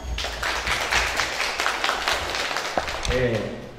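Twelfth-grade students at a motivational training session clapping hands: a burst of brisk, overlapping claps from a group, close and lively, with voices calling out and talking over it toward the end.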